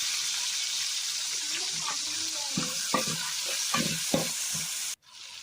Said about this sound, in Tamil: இப்போ கொத்தமல்லியும் புதினாவும் சேர்த்து அதையும் வணக்கிக்கலாம்